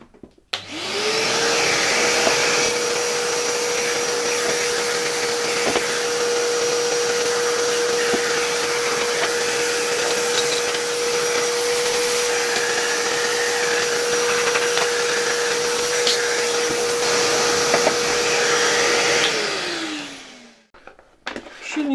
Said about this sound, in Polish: Ja teraz wezmę odkurzacz, troszeczkę to wszystko wyczyszczę z kurzu